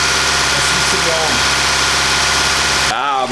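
A 1.6 Audi A4 8K's engine idles steadily and close up with a continuous mid-range hum, then a brief change near the end.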